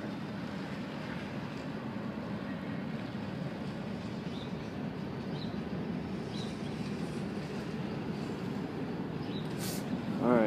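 A train rumbles past in Nampa, Idaho, with a steady, continuous low roar at constant loudness, swelling slightly near the end.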